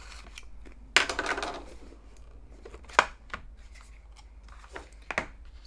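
Plastic seals being cut off a Samsung Galaxy Watch Ultra box, sharp scissor snips and crinkly plastic rustles in a few separate bursts, close up and quiet with no talking.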